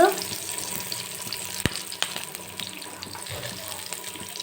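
Garlic and onions frying in a little oil in a pan give a steady soft sizzle, with a few clinks of a utensil against the pan and no talk.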